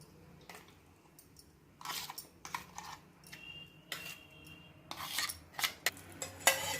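A spoon scrapes and clinks in a bowl while tempering is mixed into tomato chutney, giving faint, irregular scraping strokes and light taps that grow busier toward the end.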